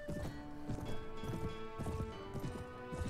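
Horse hooves galloping in Mount & Blade Warband at night in rain, a quiet repeating clip-clop rhythm of quick, even hoof strikes.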